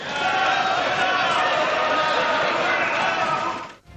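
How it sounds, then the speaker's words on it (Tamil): India alliance MPs cheer in parliament, a dense, loud and continuous din of many voices shouting and clamouring together, which fades briefly at the very end. "அப்போது இந்தியா கூட்டணி கட்சியினர் ஆரவாரம் செய்தனர்."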